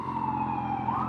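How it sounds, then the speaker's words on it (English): An ambulance siren wails close by on a city street in Rochester, NY, heard from a 2019 Kawasaki ZX-6R motorcycle, a steady loud tone with slowly sliding pitch throughout. "Oh, ambulance."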